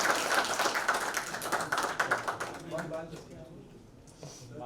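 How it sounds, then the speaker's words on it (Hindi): An audience at a song launch claps loudly and rapidly, the applause thinning and fading toward the end while voices carry over it. "जोरदार तालियां बजाइए"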